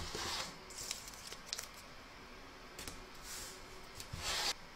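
Backing fabric pressed and taped onto the underside of an embroidery hoop, with soft rubbing and brief crinkly tearing bursts, close and fairly quiet, no voices.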